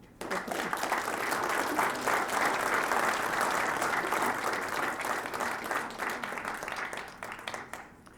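Sustained audience applause in a hall greets a speaker being introduced at a class event, a dense wash of clapping that swells quickly, holds steady for several seconds, then thins out toward the end.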